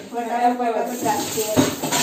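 Pots and utensils clatter and clink during dishwashing in a family home kitchen in Ratnagiri, a busy run of metallic knocks under ongoing women's chatter.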